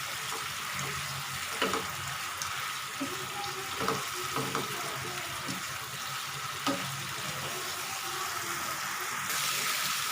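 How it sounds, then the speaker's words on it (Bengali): Hilsa fish is stirred with spices in a frying pan, making a soft, continuous sizzle broken by occasional spatula knocks against the pan at moderate distance, with no talking. "ইলিশ মাছগুলো এখন নেড়ে দিব। নেড়ে মশলার সাথে মিশিয়ে দিতে হবে।"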